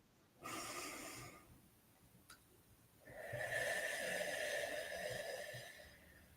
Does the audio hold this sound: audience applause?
no